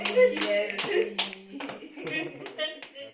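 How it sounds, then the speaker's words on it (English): A handful of sharp, close handclaps come in uneven bursts, mixed in with people talking nearby, as a small group claps for a girl after her introduction. "Clap for yourself"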